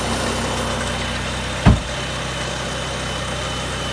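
Volvo S40 engine idles steadily with a low hum, and a single brief clunk marks the AC compressor clutch pulling in partway through.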